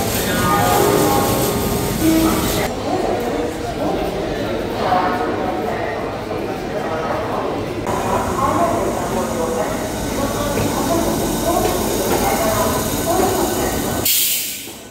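A Howrah–Midnapore local train carriage rumbles and hisses steadily in the early morning, a continuous loud clatter with voices talking over it.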